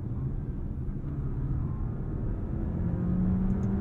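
A Dodge Hornet R/T engine heard from the cabin after a paddle downshift, a steady low rumble that rises slightly in pitch and loudness toward the end, with no talking.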